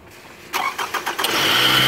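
A 2010 Scion xB engine, under battery testing, cranks with several quick uneven starter pulses before catching and settling into a steady running hum, heard close with no talk.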